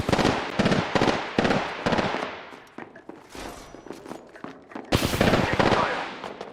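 Loud gunfire from the video game Apex Legends: dense bursts of rapid shots in a fast rhythm, easing off midway before a heavy, sustained volley near the end, with game voice callouts mixed in.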